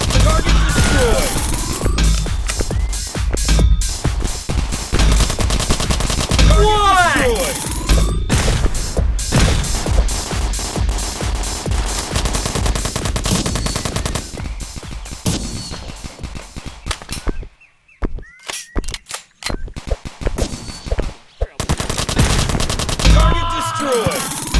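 Assault rifle fire in the Jack Street shooting game comes as loud, rapid bursts of automatic shots with brief pauses, mechanical clanks and impact crashes in between, and a short quieter gap near the end.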